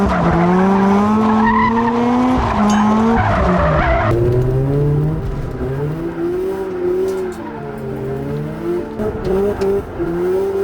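Mazda RX-8 skidding hard during a stress-test drive, a loud continuous tire squeal with wavering pitch over the engine, close and sustained for the whole stretch with no talking.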